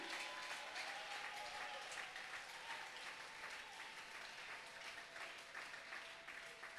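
A church congregation applauds for the gospel, sustained dense clapping from a large crowd that stays steady throughout, with a few voices mixed in.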